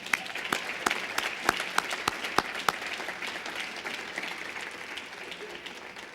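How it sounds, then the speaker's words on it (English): A ceremony audience claps in sustained applause with a few sharp, louder individual claps standing out early on, the sound easing gradually across several seconds with no voices. "That deserves an applause."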